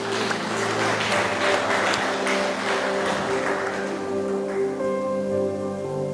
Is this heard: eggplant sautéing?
no